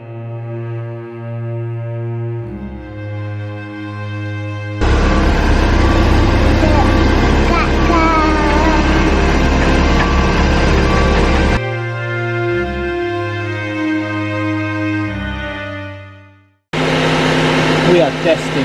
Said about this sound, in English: Hear that noise? That's the travel lift.